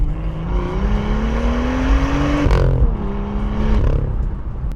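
An original BMW M2 accelerates hard from inside the cabin, its engine note climbing through a gear, dropping sharply at a shift, then rising again in a loud, continuous pull.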